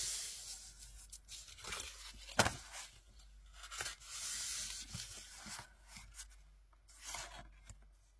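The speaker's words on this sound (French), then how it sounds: "le but, ça va être de venir marquer nos plis" Paper being creased into folds for a craft project, close-up rubbing and scraping strokes in irregular bursts with one sharp crackle, no talking.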